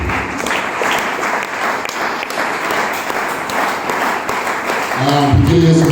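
A church congregation claps together in worship, a dense steady burst of applause filling the room, with a voice starting to speak near the end.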